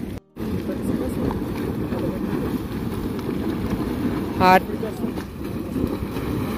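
A Yellowstone geyser erupts with boiling water, making a steady, loud rushing roar of spray and wind that fills the whole stretch, with a brief gap near the start and a short sharp burst later.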